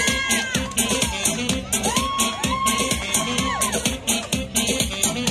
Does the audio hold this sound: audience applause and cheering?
yes